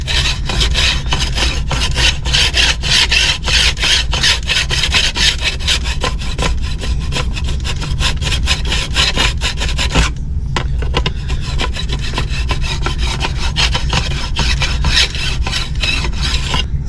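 A hand file scrapes back and forth across guitar frets during leveling on a refret, a steady, close rasping rub with even strokes and a brief pause partway through.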